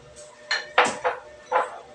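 Canned nata de coco being drained for a macaroni salad, giving a few short metallic clinks and knocks spaced over two seconds, close and moderately loud with faint kitchen background.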